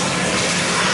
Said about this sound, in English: We're going to check the water pressure just from the tub.